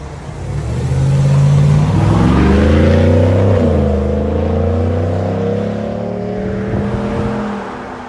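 A 2020 GMC Sierra AT4 pickup's 6.2L V8 with Borla Touring dual exhaust revs up and holds with a deep, rumbling exhaust tone, then settles into a steady idle-like drone.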